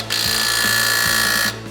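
An impact wrench (rattle gun) runs on a 4x4 CV axle in one steady, loud burst of about a second and a half, with a buzzing whine and a low pulsing hammer throughout, then cuts off.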